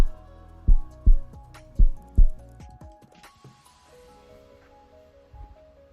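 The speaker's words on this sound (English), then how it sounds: "I could literally feel my heartbeat right now." Four loud, deep heartbeat thumps in a slow, even rhythm, fading into a quiet hum and light rustle.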